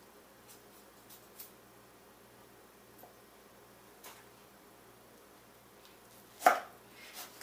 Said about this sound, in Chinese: 把番茄切成小片。